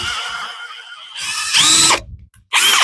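A drill bores a slow guide hole into a spalted beech blank: a close, loud whirring run, then two short bursts of drilling separated by a brief silence.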